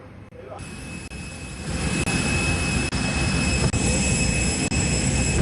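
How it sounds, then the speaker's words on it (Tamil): Jet engines of a Boeing 747-400 cargo aircraft on arrival at Katunayake airport roar as a loud, steady broadband rush that swells in the opening second, with small periodic dips, close and continuous. "போயிங் எழுநூற்று நாற்பத்தி ஏழு நானூறு ரக விசேட சரக்கு விமானம் நிவாரணப் பொருட்களுடன் இன்று அதிகாலை கட்டுநாயக்க விமான நிலையத்தை வந்தடைந்தது"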